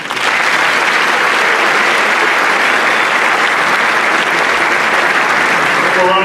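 Sustained audience applause fills a city inauguration hall in Aurora, a dense, steady wash of many hands clapping at full strength for the whole stretch, fading slightly at the very end.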